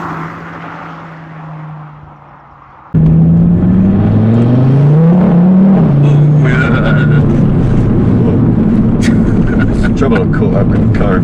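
A 500 bhp Audi TT RS accelerating hard from inside the cabin: after a quiet idle the engine note jumps abruptly and climbs in a loud, rising roar that holds for several seconds, with occupants talking over it.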